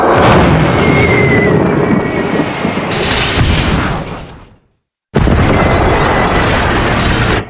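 A massive, roaring explosion in the Indonesian dub of Ultraman Orb episode 24 rumbles on for seconds, drops briefly to silence, then a second heavy blast roars back just as loudly.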